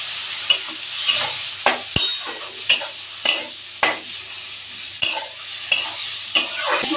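Spiced poya fish curry masala with turmeric and a splash of water sizzles in a pan while a spatula stirs it in regular scraping strokes about every half second, close and clear, with no talking.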